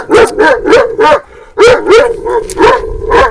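A large female Kangal dog barks loudly at close range, in a fast run of deep barks, a brief pause, then a second burst of barks.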